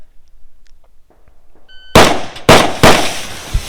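Pistol shots fired at a target: three sharp, loud, close cracks in quick succession after a nearly silent lead-in, each with a brief ringing tail.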